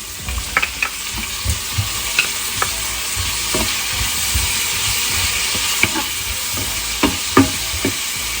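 Peppers, carrots, onions, garlic and pineapple stir-frying in a hot pan, a steady loud sizzle broken by irregular scraping and clinking of a utensil stirring the vegetables.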